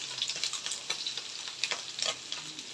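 Garlic hits hot oil in a home kitchen, giving a bright, crackling sizzle with quick irregular pops and stirring ticks throughout.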